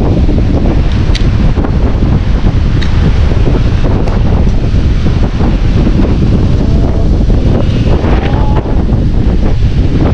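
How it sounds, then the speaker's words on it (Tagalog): Strong wind roars and buffets the microphone steadily throughout while fishing, with a rough, gusty low rumble and faint water sounds in the background; no one speaks. "Lakas sa hangin."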